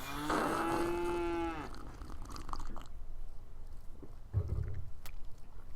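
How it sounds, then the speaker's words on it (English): A single drawn-out cow moo rings out near the start, followed by quieter shuffling, chewing and rustling sounds close by. "probably we're hearing mooing"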